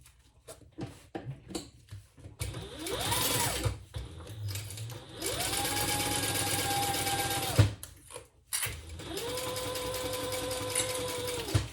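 Home sewing machine basting fabric in place, running in three long bursts separated by short pauses, close and steady with faint handling noises between runs.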